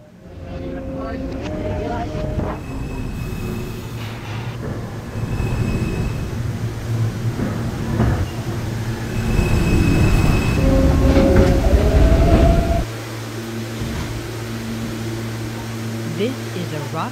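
An NYC subway L train at Broadway Junction, bound for Rockaway Parkway, rumbles loudly and close with rising metallic wheel squeals and screeches, while a recorded station announcement speaks over the rolling noise.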